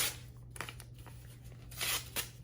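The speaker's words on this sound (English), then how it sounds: "what you can do is just rip it up" Soft ripping and crinkling of a handwritten paper note being torn up by hand, faint and close, in a couple of short tearing bursts.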